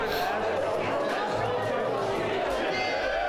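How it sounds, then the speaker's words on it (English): A crowd murmurs and chatters at the US Open Crokinole Championship final, a soft, diffuse hum of many voices at moderate distance, steady throughout and without standout shouts. "Hear the crowd getting back into it."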